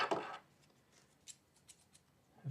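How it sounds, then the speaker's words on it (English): Someone handles a pair of metal scissors that were found in a cemetery. A few light, sharp clicks and snips sound close by, spaced apart and fairly faint, with a brief louder rustle at the start. "found these scissors in the cemetery."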